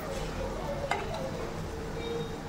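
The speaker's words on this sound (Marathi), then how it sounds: "मस्त उलटून पालटून ब्राऊन कलर येईपर्यंत आपल्याला तळून घ्यायचं आहे" Taro leaf bhajis deep-frying in hot oil give a steady, soft bubbling hiss, with a single sharp clink partway through as one is flipped, close and even throughout.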